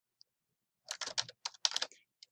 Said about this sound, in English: So we're typing Gupta